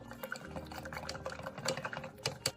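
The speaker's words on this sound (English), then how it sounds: "you dissolve it by shaking it into hot water first" Collagen powder shaken into about 100 cc of hot water and dissolving, giving soft liquid swishing and small knocks that build toward a louder rattle at the end, with no voices.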